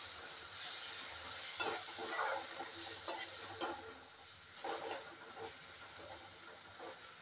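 Gram-flour pithla mixture sautéed in a pan on the stove, giving a quiet, steady sizzle with occasional soft scrapes and stirs of a spatula throughout.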